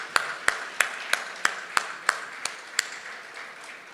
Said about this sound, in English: Please do give him a round of applause.